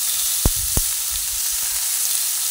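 Bottle gourd pieces frying in a pan give a steady, close sizzle, with two sharp knocks from stirring near the start and no talking.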